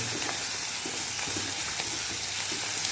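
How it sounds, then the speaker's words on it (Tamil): Tomatoes and green chillies sauté in a pan for kara kuzhambu, making a steady, close hiss and sizzle with faint stirring taps throughout, no voices. "ரெண்டு பச்சை மிளகாய் போட்டுக்கலாம் ஃப்ரெண்ட்ஸ் தக்காளி நல்லா வதங்கணும்"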